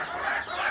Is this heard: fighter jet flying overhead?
no